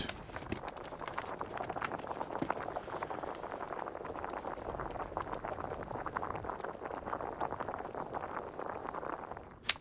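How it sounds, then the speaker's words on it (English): Pea soup bubbling as it cooks in the survival game John Vostok: SISU, a soft, continuous patter of small pops and blurps at low level, with a brief louder knock at the very end. "Very satisfying sound. The bubbling pea soup."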